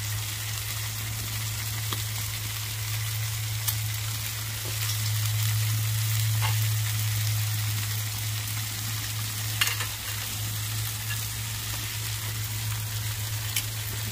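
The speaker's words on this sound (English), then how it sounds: "I'm grilling fish with bacon" Walleye fish wrapped in bacon sizzles on a grill in a steady, close, continuous crackle that swells slightly louder for a few seconds midway, with no voices.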